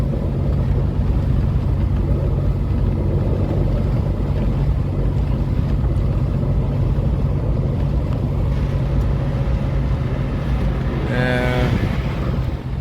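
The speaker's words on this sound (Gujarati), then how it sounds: "સરસ મજાનો ઠંડો ઠંડો પવન આવે છે" Cool wind blows steadily and loudly across the microphone outdoors near temple roads, a constant low roar throughout with a brief higher rattling sound near the end.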